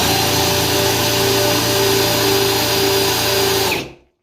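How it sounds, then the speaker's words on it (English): A power drill runs steadily clockwise while servicing a tap, a loud, continuous motor whine lasting about four seconds before it cuts off abruptly, with no talking. "put your drill in a normal clockwise motion, pull the trigger for only about 5 to 6 seconds"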